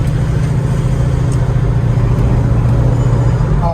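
A 1967 Chevrolet Chevelle Super Sport on the road, its engine giving a loud, steady low drone with road noise as it pulls along without any gear change or talk.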